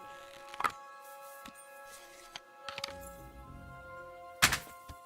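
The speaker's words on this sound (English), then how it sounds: "if I shoot down, I'm an excellent crossbow shot" Crossbow bolts thunk into a target in Kingdom Come: Deliverance 2, a few sharp impacts spread across a quiet stretch with a steady game tone underneath, with one louder hit near the end.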